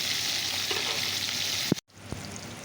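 Pointed gourd pieces sizzling in hot oil hiss steadily and close up, then a sharp clack cuts in and the sound drops out for a moment before the frying resumes more quietly.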